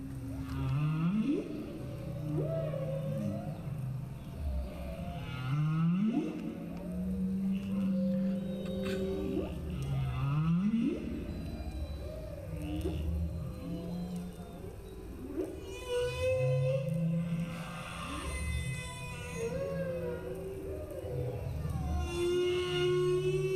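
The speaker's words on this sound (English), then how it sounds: "even if you'd never heard humpback whale song before" Humpback whale song plays with long rising and falling moans, low groans and higher whistling cries repeating in slow phrases, sustained and resonant with no talking.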